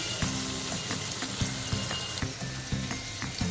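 Ground cumin and coriander powder sizzle and fry in a pan for a Bengali chhanar kofta curry, a steady close crackle with repeated stirring scrapes throughout.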